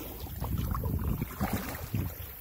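A kayak, an Ascend 128T, paddles along the Chowan River at Edenton, North Carolina, with rhythmic paddle splashes and water swishes every half second or so over light wind rumble, close by and with no talking.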